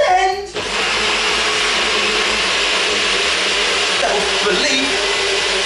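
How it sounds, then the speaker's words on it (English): A blender whirs steadily as it blends vegan pancake batter made with vanilla extract, cinnamon and baking powder, a loud continuous motor drone after a brief start-up clatter, running alone for several seconds. "Blend."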